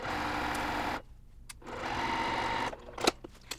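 A sewing machine runs at close range, stitching a cross stitch pillow border in two steady whirring bursts, each about a second and a half long, separated by a pause with small clicks and handling noises.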